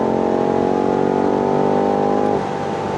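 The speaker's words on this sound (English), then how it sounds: "This 8-cylinder V8 twin-turbo engine is a masterpiece." A 2019 BMW M5 F90 with a twin-turbo V8 idles with a steady, smooth mechanical hum, then the tone drops and shifts slightly partway through. The sound is close and sustained, and no revving surge is evident.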